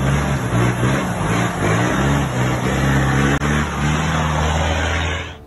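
A loaded milk truck labors along a muddy dirt road near Três Corações, its engine droning loud and close with steady strained revving throughout, no voices.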